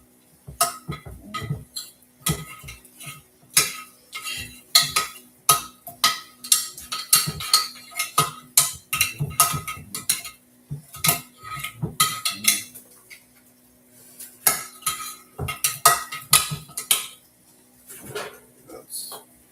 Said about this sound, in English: Get the spoon, make sure the whole pan is all greased up.